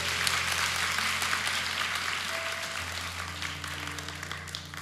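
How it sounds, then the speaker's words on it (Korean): A church congregation applauds after a testimony with a broad, moderately loud spread of clapping that thins slightly over time, over a low steady hum. "오늘 귀한 간증해준 한정석 형제님께 하나님께 영광의 박수 올리시겠습니다"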